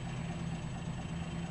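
Truck engine with a carburetor idling at a steady low rumble, close by and unbroken, with a constant low hum and no voices over it.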